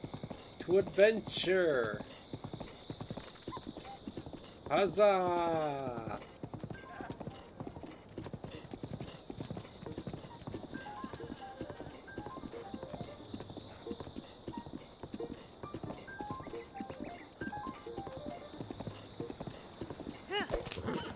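A horse in Zelda Breath of the Wild galloping with rapid, even hoofbeats throughout, loud and near, with a couple of neighs early on and a voice speaking over it.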